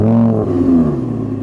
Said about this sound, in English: A naturally aspirated V10 engine isn't just about the performance, it's also about the noise. So let's start the Audi up